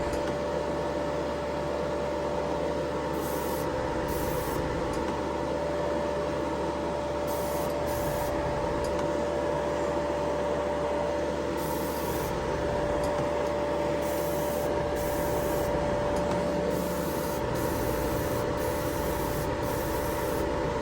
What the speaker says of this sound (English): you'll notice how well this airbrush atomizes the paint